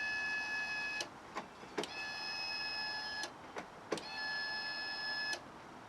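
Electric fuel pump priming the injection rail on a Fiat Panda 4x4, a faint buzzing whine in repeated bursts separated by short clicks, steady rhythm, no talk.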